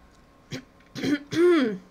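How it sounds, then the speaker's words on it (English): A single harsh cough with throat clearing, a few short rough bursts close to the microphone, ending in a strained voiced groan. "My cough was a little hard to get out."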